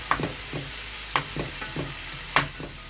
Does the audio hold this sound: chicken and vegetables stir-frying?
yes